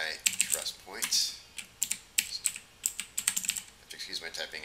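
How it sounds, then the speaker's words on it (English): Fast typing on a computer keyboard while entering router PKI trust point commands, with uneven bursts of crisp, close key clicks and short pauses. "Excuse my typing, it's late in the day."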